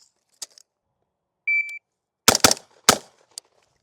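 A shot timer beeps once, then a BCM rifle fires a quick string of loud, sharp shots, two in rapid succession and another shortly after, with a fainter report at the end.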